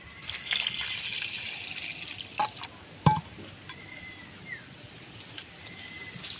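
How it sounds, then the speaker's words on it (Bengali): Red lentils washed by hand in water, with splashing, swishing and light clinks of grains and bowl, a few sharper knocks standing out against a soft wet background. "ডালটা পরিষ্কার করে একটু ধুয়ে নেব।"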